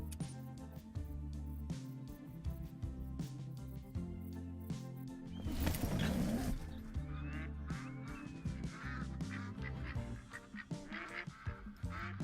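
A duck in the hunting game Call of the Wild lets out a brief burst of quacks midway, heard over a steady background drone of game ambience.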